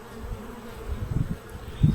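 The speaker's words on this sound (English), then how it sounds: "Try not to kill any bees." A low, steady buzz of many honeybees close by at an open hive, swelling slightly toward the end, with no voices.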